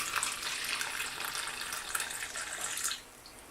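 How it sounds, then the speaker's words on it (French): Lukewarm water, 250 ml, is poured into a bread machine bowl over instant dry yeast, a close, steady splashing trickle lasting about three seconds before stopping. "J'ajoute par-dessus 250 ml d'eau tiède."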